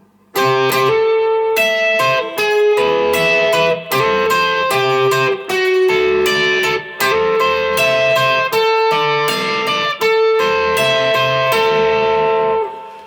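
Electric guitar in standard tuning plays a song intro through a spring reverb, with ringing picked chords and single notes in a steady rhythmic pattern, loud and close, with no talk.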